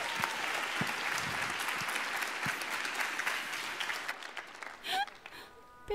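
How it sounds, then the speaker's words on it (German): Audience applause at a cosplay contest stage show during a convention, a steady, moderately loud wash of clapping that fades out toward the end, where a voice briefly breaks in. "Viel Spaß, Applaus."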